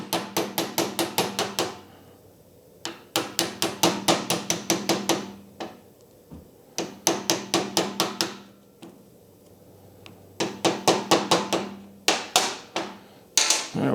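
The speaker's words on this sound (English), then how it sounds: "Give it a tappy tap tap." A hammer taps out a stuck float pin from the carburetor of a John Deere JS60 push mower, with rapid bursts of sharp metallic taps separated by short pauses, loud and close with no talk.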